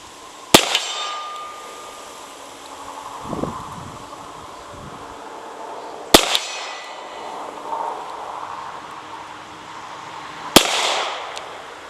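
Three sharp handgun shots fired outdoors with a carry gun at a steel target 42 yards away, each a loud crack spaced several seconds apart, with faint metallic clangs of the steel ringing after, no talking.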